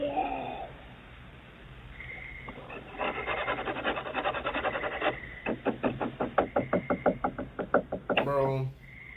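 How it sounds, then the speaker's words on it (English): Scratching and rubbing against a wooden door, followed by a rapid series of sharp knocks, close and fairly loud, ending in a brief muffled voice. "as they scratch and knock on the back door"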